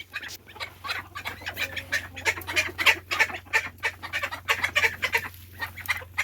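Ducks and chickens fill a chicken house with busy clucking and quacking, a dense flurry of overlapping bird calls close by over a low steady hum.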